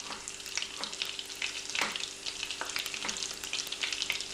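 Garlic sizzles in a pan, giving a dense close crackle with quick pops and light stirring scrapes, steady and fairly quiet with no talking.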